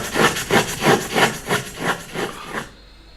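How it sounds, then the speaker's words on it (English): Loud, rough scratching comes in eight rhythmic strokes, like wood being rasped or sawn back and forth, close and dry, then stops abruptly into near silence. "There is a loud scratching sound."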